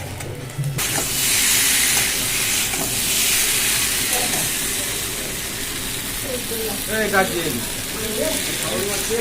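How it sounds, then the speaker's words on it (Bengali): Boiled eggs fry in a pan with a loud, steady hiss and sizzle throughout. A voice speaks briefly near the end. "ওরটা ভেজে নিচ্ছি ভেজে ঝোলে দিয়ে দেবো"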